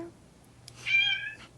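A person imitates a cat with one sustained, fairly loud meow, a drawn-out nasal mew over a steady low electrical hum, with a few faint clicks before it.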